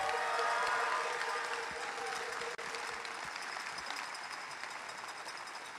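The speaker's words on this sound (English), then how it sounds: "How about a nice round of applause for Wes Clark?" A crowd at a university basketball celebration claps loudly and steadily, with some cheering mixed in. The applause is strongest at the start and eases off gradually, with a brief dropout near the middle.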